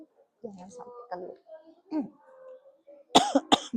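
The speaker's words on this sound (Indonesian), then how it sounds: "jadi sering batuk seperti itu" A female teacher who is feeling unwell speaks briefly to her class, then gives two quick, harsh coughs close to the microphone right after her words.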